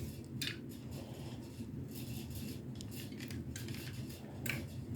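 A knife slices through a boiled egg one way, then crosswise, giving a few soft scraping cuts against a board or plate amid steady low kitchen noise, with no talking.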